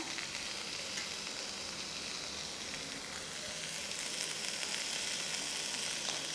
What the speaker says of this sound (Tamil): இப்போ வந்து நம்ம தக்காளியும் சேர்த்துக்கலாங்க